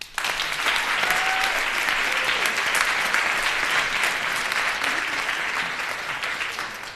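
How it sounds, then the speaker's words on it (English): A conference audience gives a sustained round of applause for the organizing team, dense steady clapping filling the room from start to finish with no speech over it. "Please join me in giving them a round of applause."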